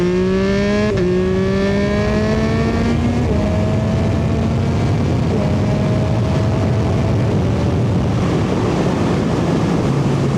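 A 2022 Yamaha MT-09 motorcycle accelerates hard with a rising engine whine, making quick-shifter upshifts that briefly drop the pitch before it climbs again, under heavy rushing wind noise.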